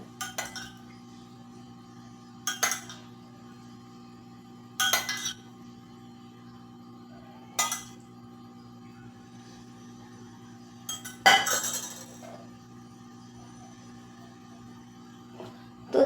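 A spoon clinks against a dish while making kadak malai chai bread, about seven short separate clinks spaced a couple of seconds apart over a low steady hum.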